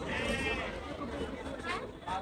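Goats bleat amid a noisy outdoor crowd at the Gabtoli livestock market in Dhaka, with people chattering throughout and a couple of wavering animal cries standing out.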